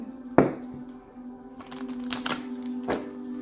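Tarot cards being shuffled by hand in short bursts, a sharp riffle followed by two more papery flurries, close and fairly quiet over a steady low hum, with no talking.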